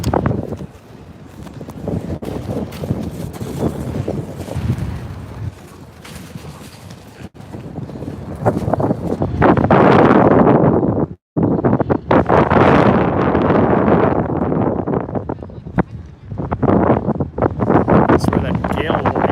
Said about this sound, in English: That's where that gale warning comes in. Because of how windy it is.